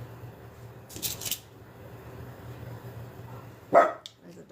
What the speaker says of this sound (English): There's a dog outside that's barking.